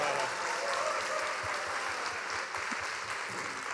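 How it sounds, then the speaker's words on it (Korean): Audience applause fills a convention hall at a Korean-American CBMC business fellowship conference in Chicago, a steady dense clapping from a large crowd held at even volume throughout. "박수를 좀 더 크게 쳐주십시오."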